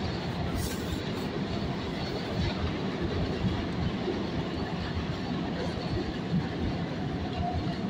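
A SEPTA Market-Frankford Line subway train toward 69th Street runs with a steady rumble and clattering wheels, its dense roar holding at a constant level throughout.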